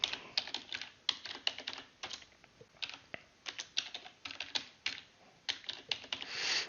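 Rapid typing on a computer keyboard while entering text into an Excel spreadsheet, crisp close key clicks in irregular bursts with short pauses and a few heavier keystrokes, no voice over it.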